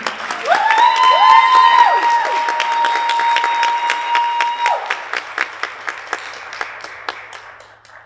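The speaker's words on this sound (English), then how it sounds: "Round of applause, ladies and gentlemen." Loud applause from a crowd at a beauty pageant fills the room, with sustained tones over it at first, then the clapping thins to scattered claps as it fades.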